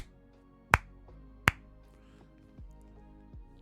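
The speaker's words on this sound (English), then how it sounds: "I'm gonna give you 3 slow claps" Slow, deliberate hand claps: two sharp, loud cracks about a second apart, then a couple of softer, duller hits, with no talking.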